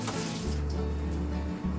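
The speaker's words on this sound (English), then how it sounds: "the best thing to do is to wash this off with some warm water to resuscitate it a little bit" Warm tap water runs steadily over dried beef in a kitchen sink, a close, even splashing hiss with small gurgles as the meat is rinsed.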